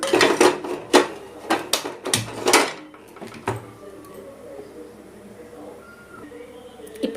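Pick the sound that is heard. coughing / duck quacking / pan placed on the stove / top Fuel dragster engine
pan placed on the stove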